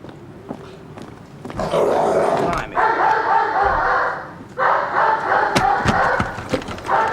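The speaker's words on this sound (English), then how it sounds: "who in their right mind would have a dog like that?" Dog barking repeatedly and loudly at a house, in loud bursts with brief gaps, while people talk over it nearby.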